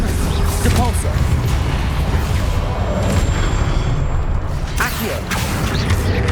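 A Depulso spell cast in Hogwarts Legacy lands as a heavy booming blast within continuous loud game action, with a second sharp impact a few seconds later.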